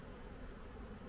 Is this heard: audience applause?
no